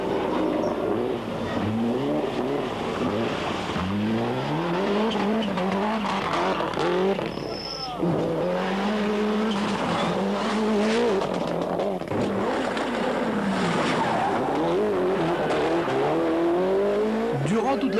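Rally car at speed on the 1993 Tour de Corse, a loud continuous engine note rising and falling through gear changes and corners with tire squeal, under a commentator's steady talk.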